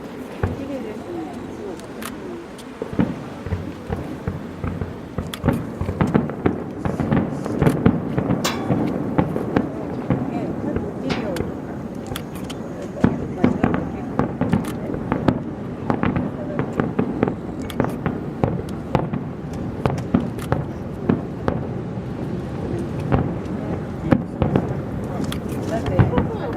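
Fireworks at the Nabari summer festival in 2013, a dense run of booming bursts and crackling pops going off continuously at a distance, with people talking now and then beneath the display.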